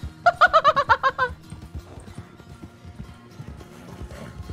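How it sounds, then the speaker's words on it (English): In the RedM video game, a horse lets out a loud, shrill neigh in a series of quick, rising whinny bursts over clip-clopping hooves, and then the hoofbeats continue more quietly on their own. "Whose horse is screaming like that?"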